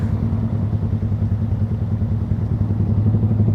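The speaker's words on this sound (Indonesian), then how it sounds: "Kayaknya udah enakan pakai knalpot brong gitu." A motorcycle fitted with a loud aftermarket brong racing exhaust rumbles close by in a deep, throbbing low drone with a rapid pulsing beat, holding steady and loud throughout while riding on a road.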